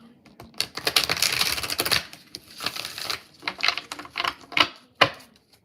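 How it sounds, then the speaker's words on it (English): Tarot cards being shuffled by hand: a run of crisp, papery riffling and flicking bursts, some long and some short, close up and fairly quiet, with brief pauses between shuffles and no talking. "we're going to shuffle this deck and we're"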